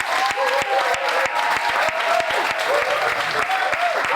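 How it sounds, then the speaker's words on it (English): Lively applause from an audience at a book and album launch, many hands clapping steadily and fairly close, with crisp individual claps standing out throughout. "can we have a round of applause for Chantel"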